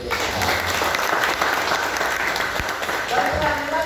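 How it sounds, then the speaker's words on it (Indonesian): Sustained applause from a crowd, dense and continuous throughout, with a voice faintly mixed in. "Tepuk tangan untuk BPJS."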